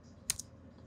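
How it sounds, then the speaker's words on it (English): Two quick, quiet clicks sound close together as keys are pressed on a keyboard attached to a Steam Deck, over a faint, low room hum. "Hit enter, control O on your keyboard"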